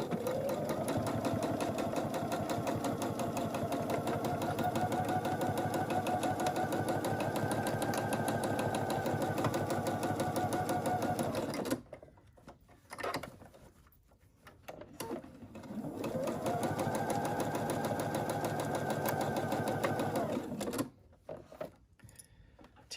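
Sewing machine stitching a hanging storage pod bag with outer and lining layers joined, running steadily in two long bursts separated by a pause with small handling noises.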